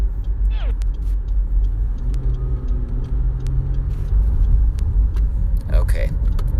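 Cars roll past on a street during an outdoor Pokémon Go event, a steady low rumble of traffic with a couple of vehicles sweeping by, while people talk nearby.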